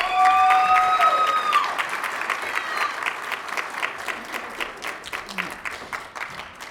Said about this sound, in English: can we have one more round of applause for our amazing graduates?